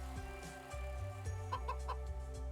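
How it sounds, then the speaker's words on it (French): A rooster in the video game A Space for the Unbound gives repeated clucking calls over a steady droning game music bed, several short bursts close and clear. "Ah bah il est heureux le coq."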